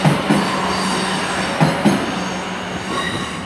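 Coupled Class 444 electric units at Bournemouth station, a close and steady rolling rumble with a few sharp wheel clicks and thumps over the rail joints, and no voices.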